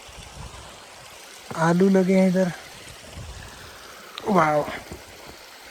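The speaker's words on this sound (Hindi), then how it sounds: "ये पतली सी नाली ऊपर से आ रही है, तो इन सब घरों के लिए पानी की सप्लाई इसमें से हो जाती है" A narrow water channel carries the water supply down through the houses of a small mountain village on the Everest trek in Nepal, between Junbesi and Ringmu. It makes a soft, continuous trickle beneath two short bursts of talk.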